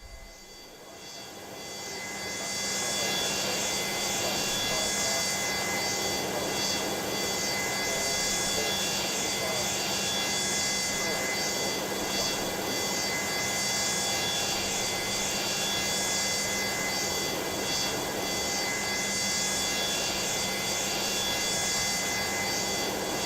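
Jet engine spool-up on a Boeing 727-200F freighter in the MSFS 2020 flight simulator, a dense roaring whine with steady tonal hums that rises over the first few seconds and then holds loud and constant.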